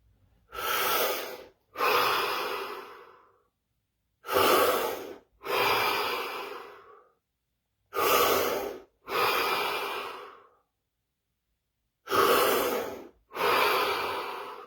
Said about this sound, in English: We take 5 deep breaths, followed by a little bit longer, 30 seconds of absolute stillness and silence.